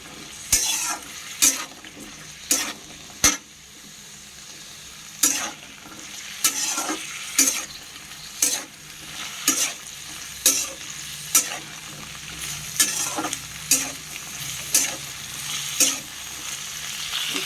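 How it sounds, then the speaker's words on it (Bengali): Vegetables with cauliflower and peas fry in a pan, a steady sizzle under rhythmic scraping stirs of a spatula roughly every second, close and clear without speech. "সবজিগুলো এবার একটু ভেজে নেব"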